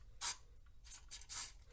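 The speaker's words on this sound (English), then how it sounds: "I am going to spray some garage door lube in this thing just to keep it from squeaking further down the line" Silicone garage door lubricant sprayed from a can into a black sand magnet: three or four short hissing bursts, close and fairly quiet, with brief gaps between them.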